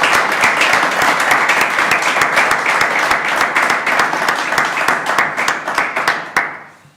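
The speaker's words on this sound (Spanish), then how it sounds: "démosle un aplauso, si os parece." A lecture audience in Gijón claps to welcome a speaker before a talk. The round of applause is full and even, holds for several seconds, then tapers off to a few final claps.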